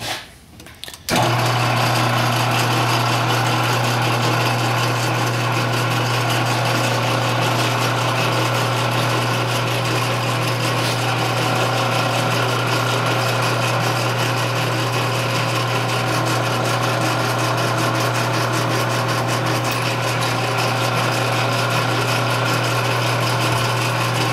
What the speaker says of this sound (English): I'm getting ready to single point thread it here.